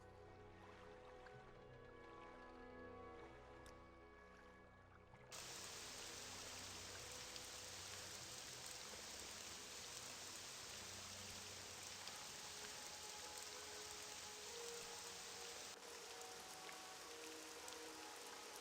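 Rain falls in Morrowind with the Tamriel Rebuilt mod, a steady soft hiss of rainfall that grows denser partway through and continues to the end.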